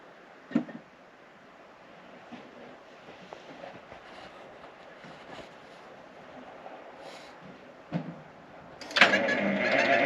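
A Detroit 6-71 diesel engine is cranked with a few sharp knocks and then catches, bursting into a loud, raspy, high-pitched running roar over the last second.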